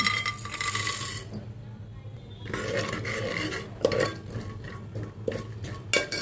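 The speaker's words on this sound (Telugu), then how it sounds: "ఇప్పుడు మనం తాలింపులన్నిటిని వేసుకోవాలి." Tempering spices crackle in hot oil in a pressure cooker, a dense sizzle broken by a short lull, then ladle scrapes and metal clinks against the pot.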